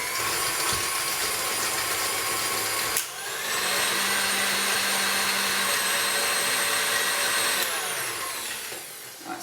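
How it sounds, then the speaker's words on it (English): An electric hand mixer beats sugar and margarine in a bowl, a loud steady motor whine that pauses briefly once, then runs on before slowing at the end. "I'm still going to beat my sugar and margarine a little bit first, just to loosen it up"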